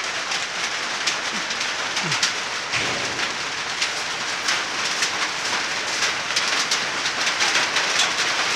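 Light rain falls in Cebu, a steady patter of drops striking surfaces nearby, with brief louder ticks scattered through a constant hiss and no voices.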